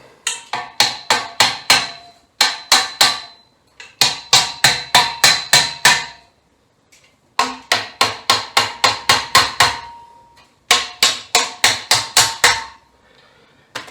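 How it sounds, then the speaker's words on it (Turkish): Rapid bursts of sharp hammer taps on wooden furniture dowels while assembling a desk with bookshelf, five to eight blows per run, repeated in several runs with short pauses between. "Bunu bir çekiç yardımıyla daha iyi bir şekilde oturtabilirsiniz."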